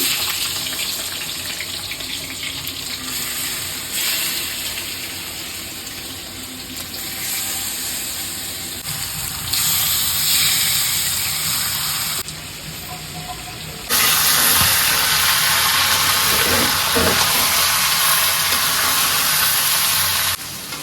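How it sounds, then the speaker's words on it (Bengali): Chicken sears in hot oil with spices in a village kitchen wok, making a loud, steady sizzle that rises in stages and grows fiercest toward the end, with scattered crackles. "মুরগি কষানো হয়ে গেছে"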